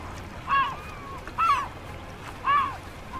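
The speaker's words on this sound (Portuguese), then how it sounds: "O que torna este lugar bastante popular para os patos." Three separate short honking calls of ducks carry over quiet water in a calm northern fjord harbour, spaced about a second apart above a low ambient hush.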